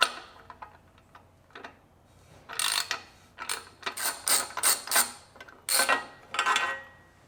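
Threaded 36x24 bicycle bottom bracket cups being unscrewed counterclockwise with a tool, giving a run of loud, close ratcheting clicks in bursts after a few faint ticks, with no voices.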